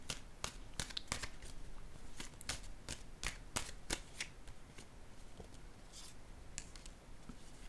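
A tarot card set down on a table among brisk card handling, with a run of sharp papery snaps and slides spaced through a quiet room, close and fairly soft, no voices.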